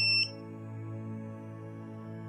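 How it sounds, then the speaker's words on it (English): A single short electronic beep from a Tommee Tippee formula prep machine sounds at the end of its cycle, followed by a steady low mechanical hum. "it will beep to finish the cycle"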